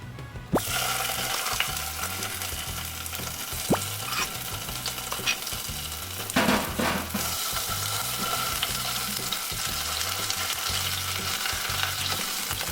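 Lao red curry paste and shrimp paste sizzle and fry steadily in a hot pan while being stirred, with occasional scrape and clack of the utensil against the pan, close and continuous.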